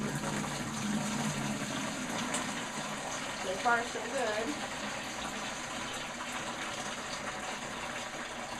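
Water pours from a pail into a PVC pipe waterer in a steady, hissing rush that runs throughout, with a brief splashy swell near the middle and a person speaking briefly over it.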